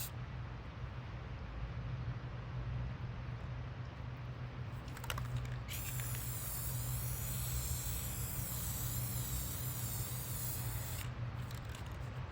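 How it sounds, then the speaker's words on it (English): A spray can hisses copper paint onto a ceramic tile table in a long, steady burst of several seconds, faint against a low background hum. "I covered the tiles with a paper bag and tape so I could spray the copper."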